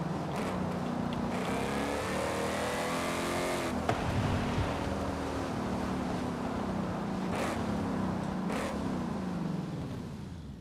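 Car engine in the racing game Forza Horizon 5, a steady loud drone with pitch sweeps as the gears drop and the revs blip, continuous and close with no talking.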